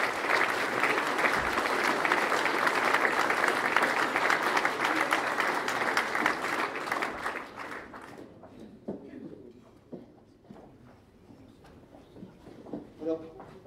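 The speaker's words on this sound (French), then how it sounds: "On peut peut-être déjà l'applaudir." Audience applause at a 2016 mayoral speech event in Benfeld, France: steady, loud clapping from a crowd for about eight seconds, then fading into scattered claps, shuffling and murmuring room noise.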